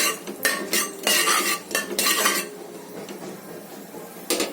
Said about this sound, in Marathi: आता हे आपण चांगलं परतून घेऊया।